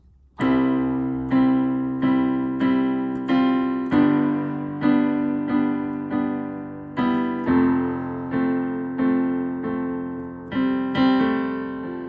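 A piano plays steady repeated chords with a melody on top, each note ringing and fading before the next, clear and close with no talking.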